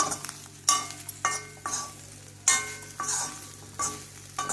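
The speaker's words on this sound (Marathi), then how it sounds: "थोडंसं बेसन, चना डाळ पीठ घालायचं आणि भेंडी भाजून घ्यायची." Okra tossed with gram flour fries in a pan, stirred in short scraping strokes every half second or so over a soft sizzle, close and fairly quiet, no talking.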